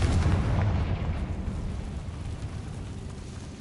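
A fire spell bursts into a deep explosion in Hogwarts Legacy, loud and booming at first, then trailing off into a long rumbling decay with no talk over it.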